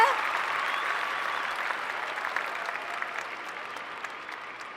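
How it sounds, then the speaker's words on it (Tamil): A studio audience at the grand finale of a televised dance competition applauds the finalist couples, sustained clapping that stays steady and loud for the whole stretch before tapering slightly. "ஒரு மாபெரும் கரகோஷம் அவங்களுக்காக"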